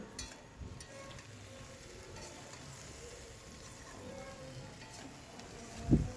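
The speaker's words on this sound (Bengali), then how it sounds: "এখানে সব মশলাগুলো আমি ভালো করে ভেজে নিচ্ছি" Spices and bori frying in a pan with spring vegetables give a faint, steady sizzle under soft room noise, ending in a few louder stirring clatters.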